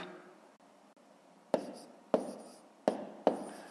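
Handwritten numbers going down on paper in a math exercise, four short distinct pen taps and strokes spaced about a second apart, close and quiet in a still room, with no talking.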